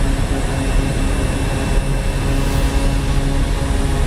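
A seaplane takes off in Microsoft Flight Simulator during seaplane operations in the Maldives, producing a loud, steady engine and propeller roar with a heavy low rumble, continuous and close for the whole stretch.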